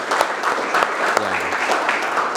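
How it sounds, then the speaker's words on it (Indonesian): A classroom audience clapping in a short, steady burst of applause, fairly close and continuous, with a brief voice underneath. "Kasih aplaus lagi untuk Fahri."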